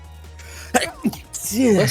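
A single quick sneeze bursts out among players talking during a tabletop role-playing game session, with other voices around it.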